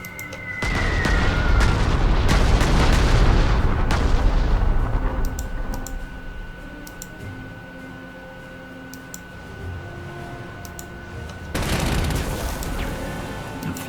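Bombing runs in the Panzer Corps 2 strategy game: loud rolling explosions and artillery-like booms in a dense burst early, then quieter mechanical sounds and a second blast cluster later, with no talking.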